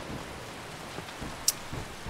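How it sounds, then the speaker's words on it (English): Heavy rain falls in the video game Skyrim, heard as a steady, moderately quiet hiss with a sharp brief tick partway through and no voices. "Because it's all rainy, very heavily rainy weather."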